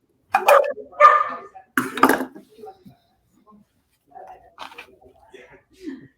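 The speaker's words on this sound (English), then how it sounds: "we got a puppy, and she found her bark today" A young puppy barks in short bursts at a home kitchen, a few loud yips up close followed by fainter, scattered sounds.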